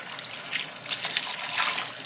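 Turkey stock pours from a jar in a steady liquid stream, splashing and gurgling continuously at close range with slight surges in volume.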